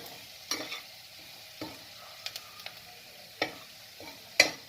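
Chicken and spice powder stirred in a pan: a handful of scraping spoon strokes come at irregular intervals over a soft steady sizzle, fairly close, with no voices.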